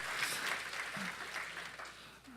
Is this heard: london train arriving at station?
no